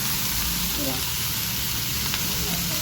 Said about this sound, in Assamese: মানে আলু ভাজিটো বনাই দিওঁ।